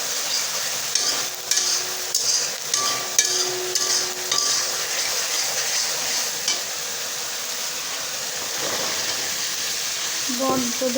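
Fish cooks with potatoes and botboti in a pan, giving steady sizzling and repeated stirring scrapes that run throughout, loud and close.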